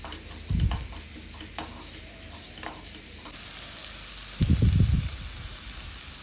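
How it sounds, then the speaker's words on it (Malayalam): Sliced onion sautéing in a pan for prawn biryani: a steady, soft sizzle with a couple of low stirring knocks, close and without any talking. "ഇനി നമ്മൾ ഒരു സവാള അരിഞ്ഞത് അതിലേക്കിടും. അതും ബ്രൗൺ ആവുന്ന വരെ നന്നായിട്ട് സോട്ട് ചെയ്യുക."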